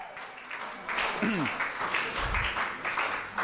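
Applause from an audience welcoming BGL founder Ron Lesh to the stage, with soft, pulsing clapping at a moderate distance, joined by brief vocal sounds partway through.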